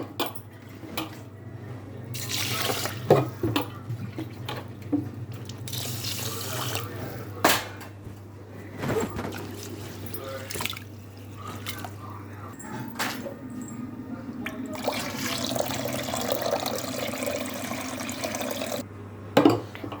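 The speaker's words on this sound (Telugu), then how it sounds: "ఇంకోసారి నేను వాటర్ పోసుకొని వదులుతున్నా" Water splashes and runs into a vessel of rice being rinsed in uneven bursts, with clinks of a pot and wet swishing, and a low steady hum underneath.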